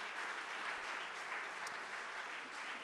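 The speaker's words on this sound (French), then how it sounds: "On va pouvoir l'applaudir." An audience at a Paris public talk gives an American art critic steady, dense applause that holds at an even level the whole time.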